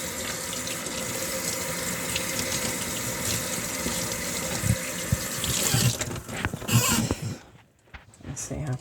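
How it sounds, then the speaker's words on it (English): Hot water runs from a tap while dirt is washed off an object, a steady splashing stream with sink sounds and changes as things pass under it, ending with a brief pause. "So I don't mind washing this now with hot water because I could easily take out all that dirt."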